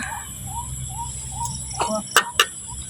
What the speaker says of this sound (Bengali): কি পাখিতে ডাকে মা?